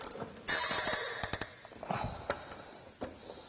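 Ratchet tightening a bolt on a Jeep JK boatside rock slider, a close, sharp burst of clicking followed by a few scattered metallic ticks and clacks.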